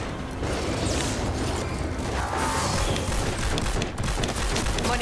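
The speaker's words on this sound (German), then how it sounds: "Ich werde mir noch mal kurz Munition herstellen." Ammunition being crafted in Fortnite on PS4, heard as a dense, steady stream of mechanical clicking, ratcheting and crackling that is loud and continuous, with no voice over it.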